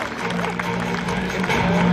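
A crowd at an elite men's national cycling race finale in Schijndel gives a short burst of applause for a rider, moderate clapping with a background hum and a low steady tone underneath.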